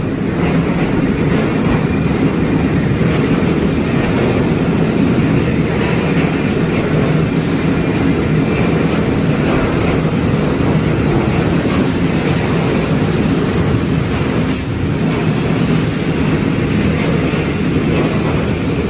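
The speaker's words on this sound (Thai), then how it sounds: "บางทีเราก็ได้เจอรถสินค้าเยอะนะ" A loud, steady rumble of a freight train rolling along the tracks close by at Kaeng Khoi Junction, Thailand, with thin metallic wheel squeals rising above it.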